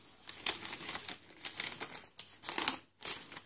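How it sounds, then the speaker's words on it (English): A paper bag tucked into a garden-themed altered junk journal crinkles and rustles in several close, uneven bursts with brief pauses between them. "There's a paper bag."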